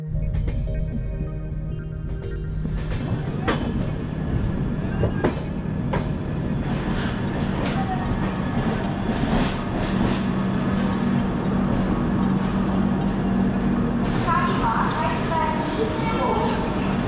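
Onboard the Konark Express (11019) passenger train from Mumbai to Bhubaneswar, a continuous loud rumble and rattle of the moving carriage with repeated clacks and knocks over the rails, with voices talking in the background.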